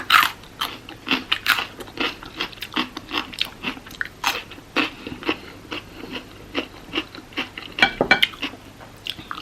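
Peppers are eaten alongside a Nepali masu bhat and dal meal, with loud close crunchy bites and wet chewing in an irregular rhythm, some faint clinks of cutlery or dishes between mouthfuls.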